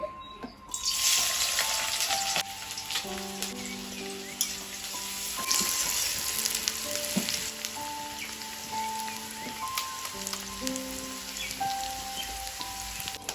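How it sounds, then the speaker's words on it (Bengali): Chopped green chilli and onion hit hot oil, setting off a sudden hiss that settles into a steady rain-like sizzle, with soft tonal music playing underneath. "তেলটা খুব ভালো করে গরম হয়ে গেছে, এখানে দিয়ে দিয়েছি আমি লঙ্কা কুচি, পেঁয়াজ কুচি দিয়ে দিব।"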